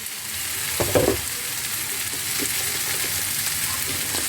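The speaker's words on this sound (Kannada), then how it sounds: "ಈಗ ಬೆಂಡೆಕಾಯಿನ ನಾವು ನೋಡಿ ಹುರಿದಿಟ್ಕೊಂಡಿದ್ವಲ್ಲ ಅದನ್ನು ಹಾಕಿ ಮಿಕ್ಸ್ ಮಾಡ್ಕೊಳ್ಳೋದು" Fried okra for bendekayi palya is stirred into a sizzling pan, with a few scraping strokes over a steady frying hiss and no talk.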